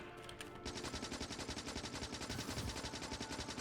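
Rapid automatic turret gunfire in the video game Factorio, a dense, steady stream of quick shots that starts after a brief lead-in and continues at even loudness throughout.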